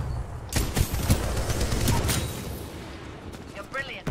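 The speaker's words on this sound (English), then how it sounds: "that guy's gonna hit me with a laser shot" Laser shot fire in Titanfall 2 comes as a few sharp, loud bursts early on, with scattered cracks later and weapon whines near the end, set against game noise and talk.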